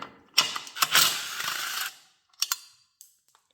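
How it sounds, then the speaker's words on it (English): A hand ratchet backs out 10mm bolts from the clutch cover of a 2007–2008 Honda CBR 600, giving a rapid run of close clicking followed by a few sparse, isolated clicks. "now I'm going to go ahead and remove our two 10mm bolts"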